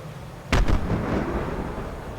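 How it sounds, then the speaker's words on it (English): In a combat flight game, a heat-seeking missile strikes a jet with one sudden loud blast that rolls into a sustained rumbling decay lasting over a second. "the missile hit"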